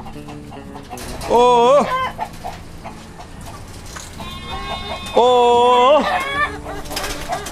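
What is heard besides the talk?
chickens clucking in a barn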